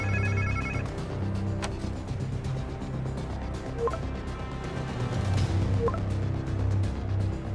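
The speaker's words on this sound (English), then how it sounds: "Sounds like somebody's phone." A phone rings in short repeated bursts over a busy soundscape of engine hum and background noise in the video game Marvel's Spider-Man 2, moderately loud.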